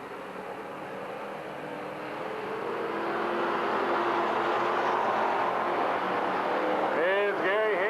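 Dirt-track race cars pulling away under green flag: a rising, droning roar of many engines builds over several seconds and holds loud, with a commentator talking over it.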